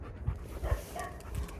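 A dog pants rapidly and softly while greeting another dog, its quick breaths close by and alone without talking.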